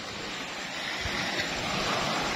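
Big ocean waves rolling in at high tide near beached fishing boats on a Bohol shore, a continuous roaring wash of surf with wind noise, building slightly louder toward the end.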